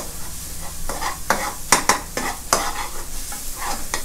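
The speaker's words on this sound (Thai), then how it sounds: "ผัดใจเย็นๆนะครับเพื่อนๆเพราะว่าน้ำซอสตัวนี้เราต้องผัดให้ทุกอย่างสุกนะครับ" Korat noodle stir-fry sauce cooks in a pan, a steady sizzle broken by a series of loud, sharp scraping strokes as the spatula stirs, close and with no voices.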